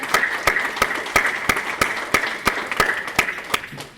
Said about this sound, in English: I want a round of applause for all of you for everything that you've done here.